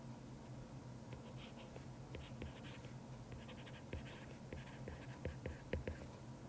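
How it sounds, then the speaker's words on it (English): Pen scratching on paper in short bursts of strokes, faint and close, with a few soft knocks in a quiet room. "I'll write that."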